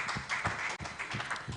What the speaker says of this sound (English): a round of applause for PG.